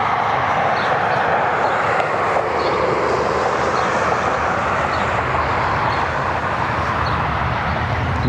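Jet aircraft roar heard while plane spotting at Cleveland Hopkins airport, a loud, steady broadband rumble filling the whole span with no obvious rise or fade, and no talking.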